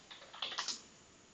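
A computer keyboard clicks faintly with a quick cluster of several keystrokes, then goes quiet into low room noise.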